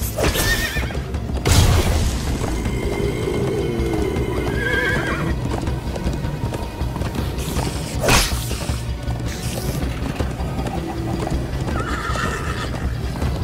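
In the Minecraft Story Mode video game a horse gallops with steady clip-clop hooves while neighs and whinnies cut in, set against a continuous game background with occasional whacks and thumps.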